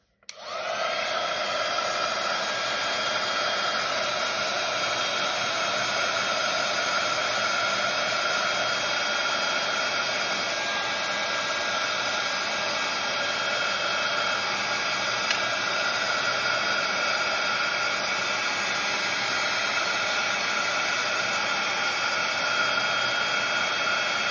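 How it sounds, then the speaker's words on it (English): A craft heat tool blows hot air in a steady, loud, hissing whoosh to dry a decoration, starting abruptly and running continuously for over twenty seconds with no voices. "just dry that off with my heat tool"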